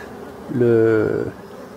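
A black forest bee buzzes at a beehive entrance in Brittany, a brief, close, rising-and-falling drone lasting under a second against a quiet outdoor background.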